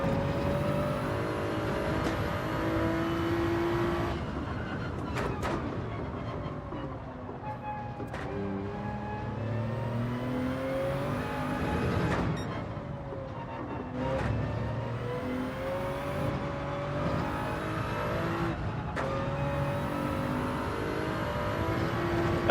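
A Porsche racing in Gran Turismo 7, its engine droning steadily throughout with harmonic tones that climb and fall through gear changes, broken by sharp shifts and brief dips between revs.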